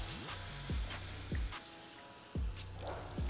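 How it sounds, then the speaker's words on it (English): A garden hose sprays water steadily in a continuous hiss over a car windshield, with low repeating thumps and swooshes as the stream shifts. "now I'm going to rinse it off with the hose"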